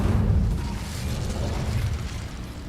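Incendio fire spell cast in Hogwarts Legacy, a loud low roaring whoosh of flame that flares up and holds with a rumbling crackle for a couple of seconds.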